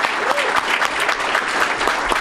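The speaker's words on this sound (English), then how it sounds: "Big round of applause for everybody." Loud, dense round of applause from an audience at a tech fireside chat event, a continuous wash of many hands clapping close by with no pause.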